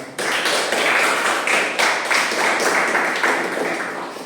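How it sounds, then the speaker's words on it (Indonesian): Students in a vocational school class on light vehicle engine maintenance give a round of applause, a dense, steady patter of many hands close by that holds for several seconds. "Kita berikan dulu tepuk tangan"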